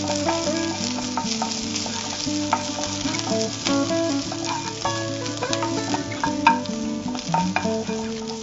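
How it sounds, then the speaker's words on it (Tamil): Chopped big onions frying in a small amount of hot oil to temper a prawn pepper curry, a steady close sizzle with scraping stirs and clinks of a spoon against the pan throughout. "நான் இப்போ கொஞ்சம் வெங்காயம், பெரிய வெங்காயம், இது சும்மா ஜஸ்ட் தாளிக்கிறதுக்கு தான், அதனால கொஞ்சமா போட்டு தாளிச்சுக்கலாம்."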